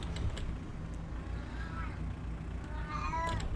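A cat meows a couple of times, faint and somewhat distant, over a constant low hum of engine-like noise.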